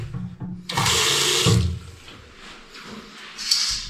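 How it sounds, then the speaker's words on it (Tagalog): A shower in a ship's cabin is switched on and water gushes loudly for about a second, then a softer trickle continues nearby. "Shower."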